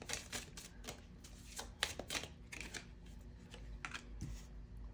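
Tarot cards shuffled continuously at close range, a quick patter of flicks and riffles with a few sharper snaps, fairly soft and steady throughout.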